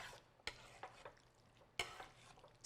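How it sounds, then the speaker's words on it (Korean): Quiet stirring of sauce and pesto in a pan, with a few sharp scraping clinks of a utensil against metal and a soft background sizzle. "팬에 남아있는 그 소스랑 페스토가 잘 섞일 수 있도록 잘 저어주세요"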